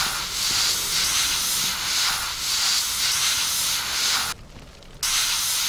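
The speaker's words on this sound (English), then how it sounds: "Get another extinguisher off." A fire extinguisher sprays in the emergency-services game Flashing Lights, giving a steady loud hiss that cuts out for about half a second before resuming.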